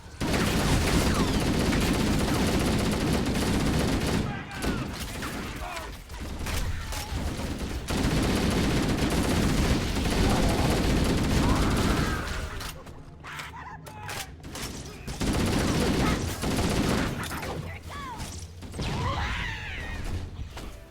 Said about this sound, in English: Honestly, the gun sounds are way better than the mess that they made with Reach.